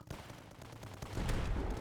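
Clayton cannon firing in the video game Tower Dominion, rapid rumbling blasts that build into a dense, continuous barrage in the second half, faint overall and with no talking.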